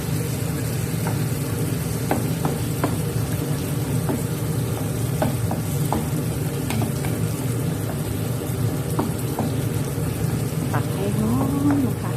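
Eggs frying in a pan with macaroni and shrimp, a steady close sizzle and crackle running throughout with a few faint clinks of a utensil.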